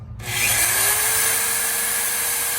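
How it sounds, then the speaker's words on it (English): A power drill spins up and bores a hole for a hitch pin on a wooden chicken tractor, a close, steady whirring grind with a faint falling whine that holds after a quick start. "now I am drilling a hole in for a hitch pin or carter key"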